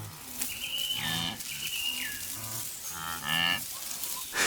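Wildebeest herd in the East African savanna giving repeated nasal, cow-like moans and grunts, several calls overlapping at close to middle distance.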